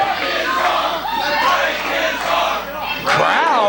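A wrestling arena crowd at the Mid-Atlantic Sportatorium shouts and roars continuously, a dense, loud mass of voices with rising yells toward the end.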